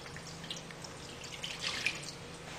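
Water trickles and splashes into a cooking pot holding seasoned chicken for adobo, a soft, faint pour with small drips scattered through it.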